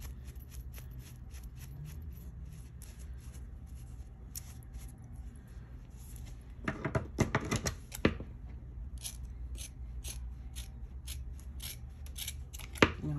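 Scissors snip through yarn while trimming a pom pom, a quiet series of small crisp cuts with a denser burst of rapid snipping partway through, close up and with no talk.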